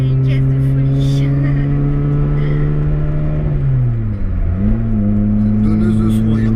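A Ford Escort XR3i engine revs hard on winding mountain roads, droning loud and steady from inside the cabin, then dipping as revs drop and climbing again.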